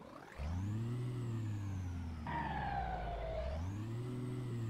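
A modded Montro 111s MADMAX truck with a 730-horsepower engine starts up in Euro Truck Simulator 2, a loud rising whine settling into a steady drone, then a second sweep up and down, with no talk.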